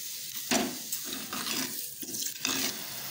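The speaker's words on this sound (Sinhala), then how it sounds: "සීනි උණු කර ගැනීමට වතුර කෝප්පේ තාච්චියට දාගන්නවා." Water splashes and gurgles into a pan in uneven bursts, close by, for melting sugar into syrup, with a few clinks and faint stirring.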